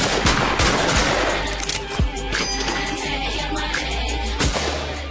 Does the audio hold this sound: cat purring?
no